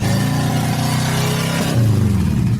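A Saab car engine that sat for 30 years in a garage runs loud and close. It holds a steady low rumble, and the pitch shifts slightly near the end. No one talks.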